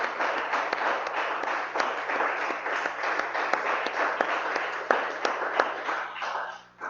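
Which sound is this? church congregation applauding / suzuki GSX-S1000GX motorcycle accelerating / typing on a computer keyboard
church congregation applauding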